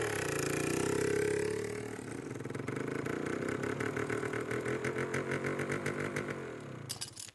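A newly bought vehicle's engine runs nearby, starting with a rising roar before settling into a steady, rhythmically pulsing idle that cuts off sharply at the end.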